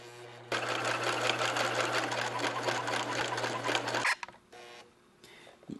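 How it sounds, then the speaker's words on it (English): A sewing machine runs steadily for about three and a half seconds, stitching fabric for a homemade juggling ball, then stops, followed by quieter handling clicks and brief stitching bursts. "you're sewing between the seam and the edge of the material"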